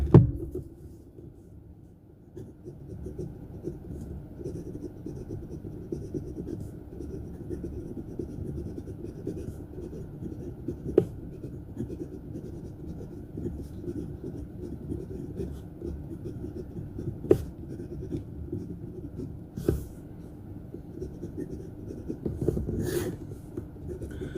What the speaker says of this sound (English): The writing with the Syahi nib is pretty wet, but it writes with slightly more feedback than with the Bock nib.